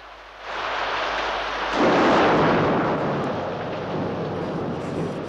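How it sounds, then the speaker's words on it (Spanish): Thunder rolls through a cartoon rainstorm, starting with a sudden crack and swelling into a loud, broad rumble that slowly fades over heavy, steady rain, with no one speaking. "¡Yo no tengo miedo a los relámpagos!"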